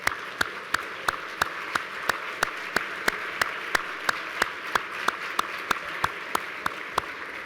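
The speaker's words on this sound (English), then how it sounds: "if I could please ask you to all rise and give yourselves a round of applause for being here" A standing audience at a conference general session applauds, heard as a moderately loud, evenly paced clapping that stays steady throughout with no voices over it.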